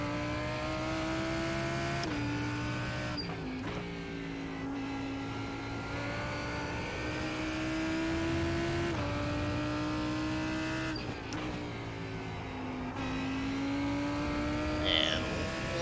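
A GT3 race car engine in the iRacing sim drones steadily, its pitch sliding up and down through gear changes. It runs continuously under faint background sound.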